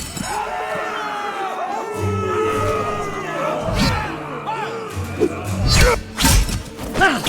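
Roaring arena crowd in the Game of Thrones PC game, a dense, loud wash of cheering and shouting with bellowed voices cutting through and a few heavy thuds and clashes rising toward the end.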